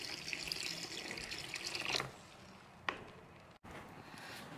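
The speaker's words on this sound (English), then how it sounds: "I'm going to add the first 500 milliliters of water" Water from a tap pours steadily into a Quikrete garden stone concrete mix for cake-pan stepping stones, a broad rushing splash for about two seconds, then softer trickling with a brief clatter.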